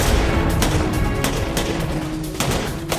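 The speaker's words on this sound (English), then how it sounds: "Responding to the gunfire" Several sharp gunshots crack out in an uneven World War II battle burst, with rumbling low noise underneath and a few louder reports standing out.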